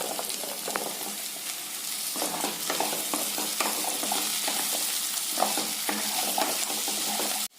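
Drumstick pieces stir-fried in a pan with softened onion and tomato: a steady, close sizzle runs throughout, with irregular spatula scrapes and taps against the pan. No one speaks.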